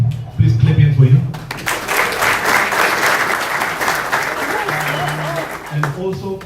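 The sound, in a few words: audience applause at a seminar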